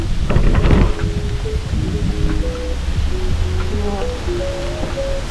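Rain falls in Baguio during a motorcycle outing, a constant hiss with a louder burst near the start and faint tonal sounds drifting over it.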